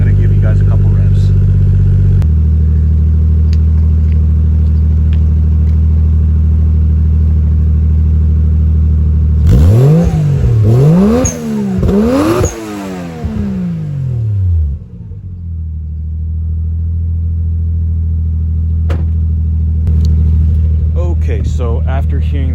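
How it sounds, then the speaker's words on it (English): Toyota JZX100 Tourer V fitted with an HKS Silent Hi-Power exhaust idles with a low, steady rumble, then gives a few sharp rising revs mid-clip before settling back to a smooth idle. "Once the car warms up, I'm going to give you guys a couple revs."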